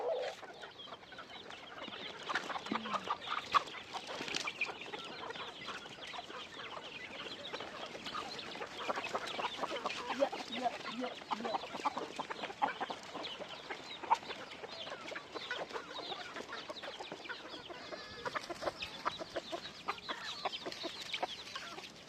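A flock of chickens, large hens and young chicks, clucking continuously at close range in the shade, many overlapping calls forming a busy, chattering murmur with no talking.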